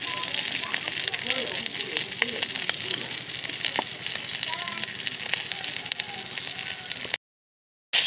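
Chili, cumin and coriander powder with ginger paste sizzle in hot oil for a Bengali tengra fish curry with brinjal, a continuous crackling hiss that cuts off abruptly near the end.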